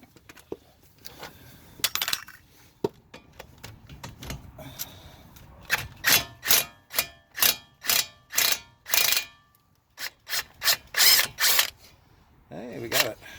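A ratchet with a deep socket works on the outer tie rod castle nut of a 2006 Mazda 6, a run of short, close, evenly spaced clicking bursts after some quieter fiddling.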